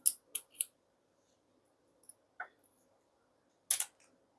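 Scissors cutting the thread tail of a pearl bracelet, a few crisp, close snips in small clusters separated by quiet gaps, with no talk.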